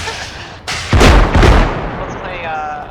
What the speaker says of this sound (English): The sign is getting blown up.